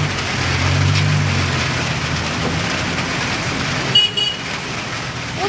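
Heavy rain pours steadily as water floods roadside drains, a dense hiss with low traffic rumble and a brief car horn toot near the end.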